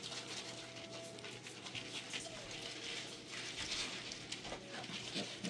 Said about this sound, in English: Busy puppies.